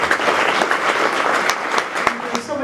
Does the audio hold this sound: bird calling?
no